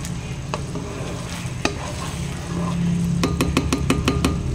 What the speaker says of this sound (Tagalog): I-mix natin.